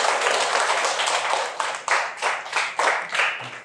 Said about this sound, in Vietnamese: các con hãy thưởng cho bạn một tràng pháo tay thật lớn nào